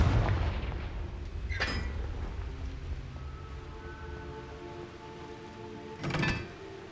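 Confringo fire spell blasts in Hogwarts Legacy, two sharp explosive bursts a few seconds apart over a low rumbling game ambience with a faint tonal hum, no speech.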